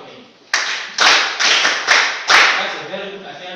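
A classroom at a senior high school breaks into a few short, loud bursts of group clapping, five or so uneven rounds that each fade quickly, with quiet gaps in between.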